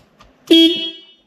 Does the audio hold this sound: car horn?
yes